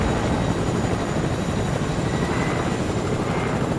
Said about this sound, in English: I'm gonna take the chopper for a quick spin.